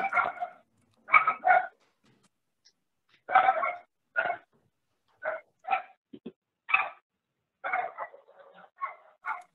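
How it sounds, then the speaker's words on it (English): Several dogs bark in short bursts and clusters with gaps between them, sounding played back from a recording. Yips and a whimper are mixed in, moderately loud, and nobody speaks. "There come the dogs."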